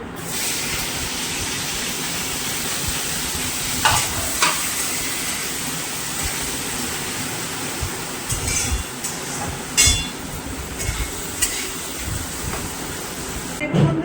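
Sliced onion fries in a pan for a fish curry, giving a steady, close hiss of sizzling oil throughout, with occasional spatula scrapes and clinks against the pan.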